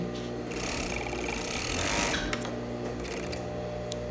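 A sewing machine runs a continuous stitch along a skirt seam, a steady close whir with a brief pause near the end and no talking.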